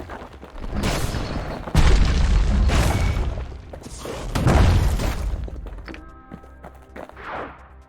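Hand grenades blast in Bastion, the action video game, several heavy booming explosions in a row, each a loud low burst with a crackling, debris-like tail, a quieter burst closing the sequence.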